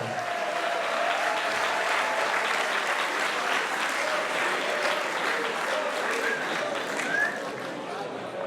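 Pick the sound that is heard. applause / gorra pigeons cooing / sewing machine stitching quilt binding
applause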